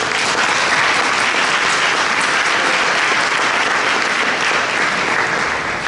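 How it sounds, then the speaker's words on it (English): Loud, dense audience applause at a business association awards gala, a sustained wash of many hands clapping close and even for several seconds without any talking. "Can we have another round of applause for him?"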